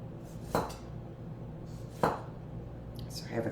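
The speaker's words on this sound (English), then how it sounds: "Let me use my chef's knife here. I like to do that. And I'm going to slice it thinly." A chef's knife slices thinly through watermelon on a board, two distinct crunchy cuts about a second and a half apart with a lighter third at the end, close and clear over a quiet room.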